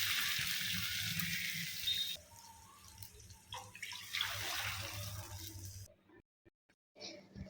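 About 1 litre of water pours steadily into a cooking pot with a splashing hiss for several seconds while making soup, then stops, leaving a few faint clinks and drips.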